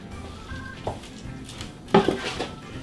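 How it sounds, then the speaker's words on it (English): A spoon stirs potato salad in a large metal hotel pan, producing soft scraping and then a cluster of louder metallic clanks and scrapes near the end. "And we're just going to stir."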